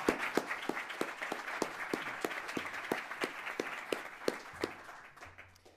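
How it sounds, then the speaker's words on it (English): Scattered, fairly sparse clapping from a small audience at a speaking event, individual claps distinct and rhythmic, tapering off toward the end. "I think that deserves a round of applause"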